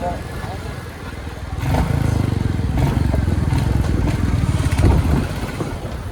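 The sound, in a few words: Royal Enfield motorcycle engine while riding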